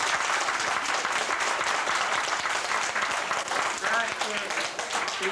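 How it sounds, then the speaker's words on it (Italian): A theatre audience in Italy applauds in a dense, continuous wash of many hands clapping at once, sustained at an even level from start to finish. "Un applauso a questo personaggio"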